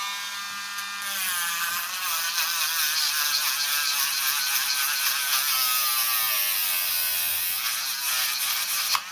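A small cordless power tool with a smaller bit works on a sword blade, a steady high-pitched buzzing whine that holds for several seconds after a short quiet start.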